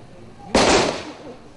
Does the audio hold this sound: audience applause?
no